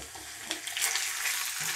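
Beef frying on high heat in a pan with ginger and garlic, with a steady, close hiss of loud sizzling and a few brief stirring scrapes, and no voices.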